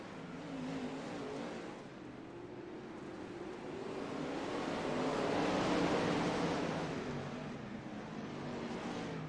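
Several race cars battle closely on a short-track oval during a championship night, engines droning loud and steady with a swelling roar midway as the pack passes nearer.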